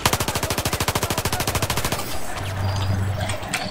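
Vehicle-mounted gun in Battlefield 4 firing a rapid, evenly spaced burst of about twenty loud shots over two seconds, then cutting off into a noisy rumble of the battlefield.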